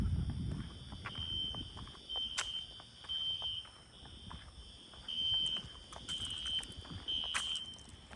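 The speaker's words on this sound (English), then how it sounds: "I just found a fire alarm going off." A Spectralert fire alarm sounds at a daycare building in Pearland, Texas at night, its repeated high beeping tones heard from some distance, fairly faint over a steady outdoor background.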